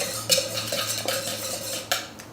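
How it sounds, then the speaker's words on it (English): A utensil scrapes and clinks against a bowl or pan while hollandaise sauce seasoned with paprika and salt is stirred, giving a few close, light knocks and scrapes over a faint steady hum. "And then just stir it"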